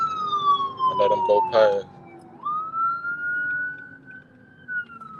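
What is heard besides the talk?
ambulance siren passing behind a driving car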